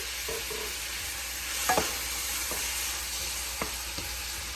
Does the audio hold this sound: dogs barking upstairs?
no